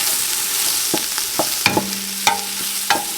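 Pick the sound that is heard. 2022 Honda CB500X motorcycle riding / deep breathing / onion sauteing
onion sauteing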